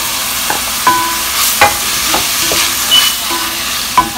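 Tomato fries in a pan with garlic and onion: a constant close sizzle with several sharp scraping stirs spaced irregularly throughout.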